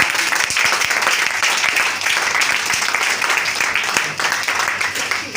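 A church congregation bursts into loud, sustained applause with cheering voices, a dense wash of clapping that fills the room for several seconds at close range.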